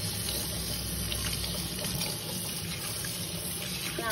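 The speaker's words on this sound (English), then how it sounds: "I recommend leave the water running" Water running steadily from a tap into a sink during hand washing, a continuous close hiss and splash with no pause throughout.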